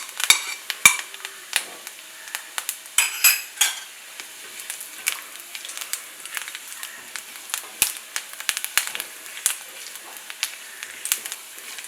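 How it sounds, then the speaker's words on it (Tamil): Cashews fry in a pan with golden-brown coconut for payasam, giving a soft steady sizzle broken by repeated scraping and stirring clinks of a spoon against the pan, with no talking. "தேங்காய் ஓரளவுக்கு கோல்டன் ப்ரௌன் எடுத்து இப்போ வந்து கொஞ்சம் முந்திரி சேர்க்குறேன்"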